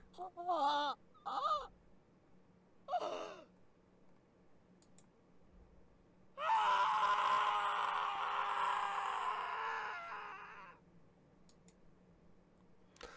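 A long, loud scream from a character in the visual novel game Steins;Gate rings out for about four seconds after a few short vocal cries, then fades into quiet background hum.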